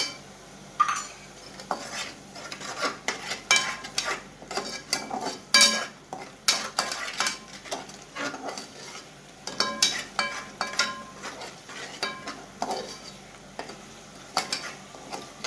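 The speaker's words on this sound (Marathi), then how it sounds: "कांदा चांगला फ्राय झालाय आपला बघा तुम्ही।" Onion frying with ginger-garlic paste in a pan for a traditional village wedding-style mixed vegetable dish, stirred with a metal spoon: steady clinks and scrapes against the pan over a soft sizzle, close and fairly loud, with no talking.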